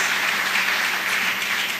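A church congregation breaks into sustained applause, a dense, steady wash of many hands clapping at even loudness for the whole stretch, with no talk over it.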